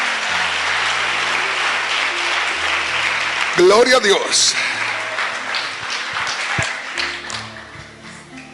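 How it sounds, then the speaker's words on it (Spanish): A church congregation applauds during a service on church unity, a broad steady wash of clapping under a voice that calls out briefly midway, then the applause gradually thins and fades. "Dale un aplauso al Señor con todo tu corazón."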